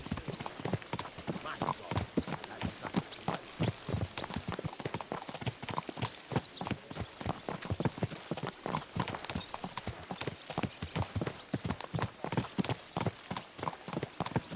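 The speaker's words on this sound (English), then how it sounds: "what a beautiful horse" Steady, rapid clip-clop of horse hooves on a hard surface in the video game Kingdom Come: Deliverance II, continuous and evenly paced throughout, fairly near.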